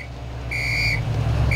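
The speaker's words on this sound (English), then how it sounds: "I'm whistling." A person whistles while playing Lego City Undercover: two clear, steady high whistle tones, the first held about half a second and a second short one starting at the end, over a low continuous game rumble.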